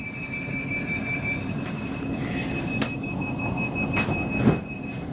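Inside a South Western Railway train pulling out of Sunningdale toward Virginia Water, a steady rumble of wheels on rails runs throughout, with a thin metallic squeal and a few sharp clanks over track joints.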